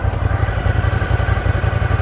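A Ducati Scrambler Desert Sled motorcycle idles steadily, its low pulsing exhaust thump beating in an even rhythm, close and moderately loud with no talking.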